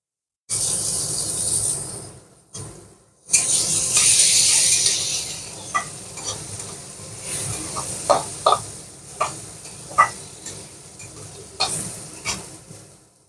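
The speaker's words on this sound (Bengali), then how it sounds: "তো পেঁয়াজ আর রসুনটা হালকা হালকা লাল হয়ে এসছে, এখন দিয়ে দেওয়া হলো টমেটো কুচি" Onion and garlic frying in a pan as chopped tomato goes in: a soft hissing sizzle after a brief drop-out, followed by a series of light clinks and stirring knocks over the continuous frying.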